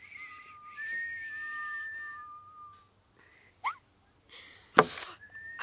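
A person whistles a few wavering tones at close range, then stops. Breathy puffs and a sharp burst of noise follow, ending with another brief whistle.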